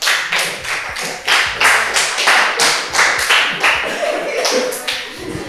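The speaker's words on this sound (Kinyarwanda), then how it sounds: "Katugwa amashyi" Studio audience at a Rwandan dating game show applauds in steady, rhythmic bursts of clapping, loud and close, sustained throughout without talk on top.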